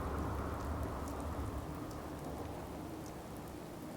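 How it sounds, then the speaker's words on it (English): Steady rain falls across a Fallout game world, a dense, even hiss with a soft low rumble underneath, continuous and moderately loud throughout with no voices. "but now it's raining"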